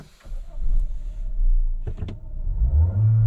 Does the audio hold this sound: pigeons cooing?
no